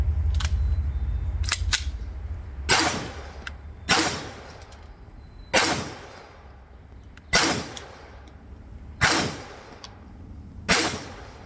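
Six sharp gunshots fired at a target using a red dot reflex sight, evenly spaced about every one to two seconds, each loud crack followed by a brief decaying echo outdoors.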